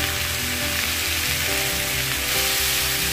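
Sliced onions, shallots, green chillies and curry leaves fry in oil for a Kerala-style chicken curry, with a loud, dense, continuous sizzle like rain on a surface and music playing underneath.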